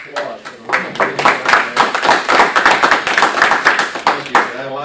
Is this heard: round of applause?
yes